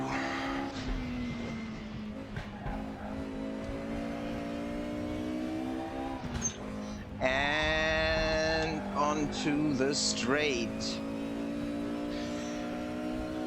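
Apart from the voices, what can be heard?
Mercedes 190 Evo engine revving on Nordschleife, RaceRoom video game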